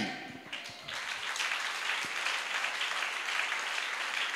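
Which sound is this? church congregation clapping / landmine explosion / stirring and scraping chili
church congregation clapping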